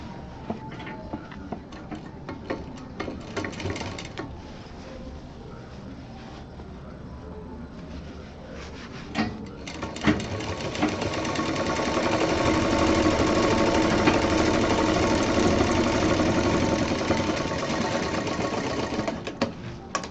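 A sewing machine runs steadily up close, stitching the final seam of a fabric cosmetic box, its rapid mechanical clatter building louder in the second half without any voices.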